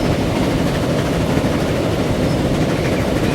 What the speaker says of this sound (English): Alright, let's get on this train.